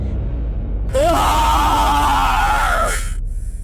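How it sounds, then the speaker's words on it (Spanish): A monstrous, inhuman roar rises from deep inside a haunted house, loud and sustained for about two seconds with a rising, bellowing edge, then cuts off into a dark, rumbling background. "Era un rugido estremecedor, monstruoso, que hizo vibrar las paredes de la casa."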